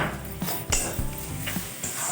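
Ground spice paste with turmeric frying with mutton offcuts in a pan, a low sizzle broken by several scraping, clinking strokes of a spoon or spatula against the metal.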